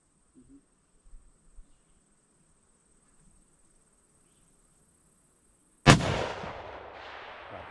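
A single loud rifle shot fired at a long-range target cracks out suddenly after a quiet stretch of faint insect chirping, followed by a long fading outdoor echo.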